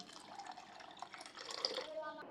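Water trickles and splashes softly into a cooking pot with whole spices for chole, for a couple of seconds, faint and close.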